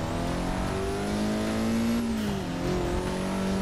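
Formula 1 car in Forza Motorsport 6, a steady high-pitched engine whine that drops sharply under braking, then climbs again as the car accelerates, loud and continuous, with tire noise underneath.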